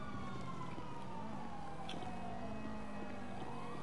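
Police siren wailing in GTA V, a single continuous sweeping tone that rises and falls steadily over road noise, fairly close and with no talk over it.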